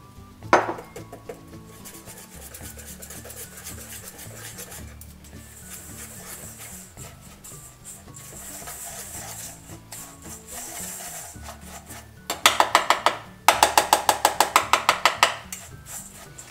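Egg being worked into oat-flake dough for homemade liver, apple and banana dog treats, a steady close rubbing and scraping in a bowl with a few sharper clicks, ending in a quick run of rhythmic knocks.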